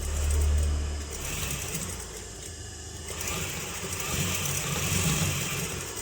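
A sewing machine stitches folded piping onto fabric with a steady, close mechanical whir that runs the whole way through, with no talking.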